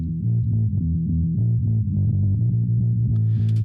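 Low-end distorted guitar tracks run through EQ, limiter and compressor plugins chug in a tight rhythmic pattern, loud and steady before stopping abruptly.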